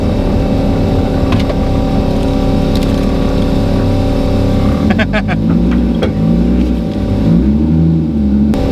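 A 3.7 L V6 Ford Mustang on a drag strip pass, its engine droning loud and steady with pitch sweeps as the tires spin, while people talk over it throughout.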